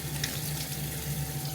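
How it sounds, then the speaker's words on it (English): Water runs steadily from a sink tap as it is splashed onto a face in a hotel bathroom, a continuous close hiss with a low hum underneath. "I'm going to splash water on my face"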